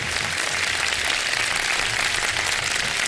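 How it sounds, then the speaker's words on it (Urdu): A studio audience at a live iftar television show applauds in a dense, sustained wash of clapping that holds steady and loud for the whole stretch. "ایک دفعہ بھرپور تالیاں بجا کر بتا دیجئے"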